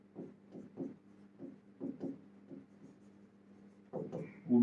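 Marker or chalk strokes on a board during a higher math lesson, a series of short scratchy bursts in an irregular rhythm, fairly close and moderate in level, with a louder stroke near the end.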